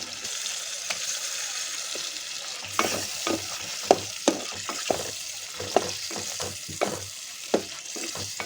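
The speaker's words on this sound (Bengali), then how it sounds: "মাছগুলোকে ভালো করে উল্টিয়ে দিচ্ছি আমি মশলাটা ভিতরে যাওয়ার জন্য।" Ghora fish pieces frying in oily spice masala and being turned over in the pan: a steady close sizzle, then a run of spatula scrapes and knocks against the pan over the hiss, no speech.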